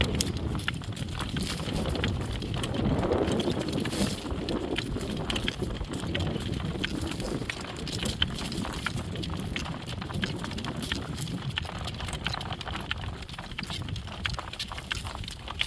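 Horses walk at a steady pace, their hooves clip-clopping in an uneven rhythm over a constant broadband rush of outdoor noise, moderately close and without any voices.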